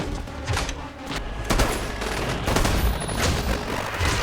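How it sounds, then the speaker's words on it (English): Gunfire in the Batman v Superman film, dense bursts of loud rapid shots and booms forming a continuous fusillade with a rumbling action soundtrack, no talk. "he's using a fucking gun"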